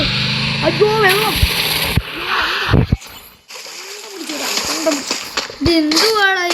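Water splashes in the Free Fire video game, a few bursts of sloshing amid game engine noise, while a young voice talks excitedly over most of it.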